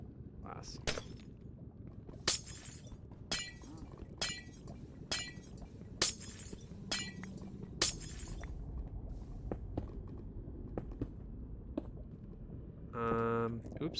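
Glass blocks breaking in Minecraft, a series of sharp shattering crashes repeated at irregular intervals of a second or so, with keyboard or mouse clicks and a brief voice near the end.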